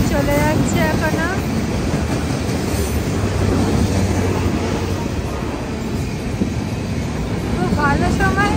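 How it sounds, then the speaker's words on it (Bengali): A train rolls past with a steady, close rumble and occasional squealing wheels at the start and end, as voices murmur in the background. "ট্রেন চলে যাচ্ছে এখনো।"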